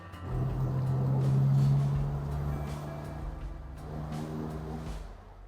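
A 2013 Morgan Plus 4 four-seater with a 2-litre GDI engine drives along, its steady mid-pitched engine hum swelling and easing slightly over several seconds, heard from inside or close by.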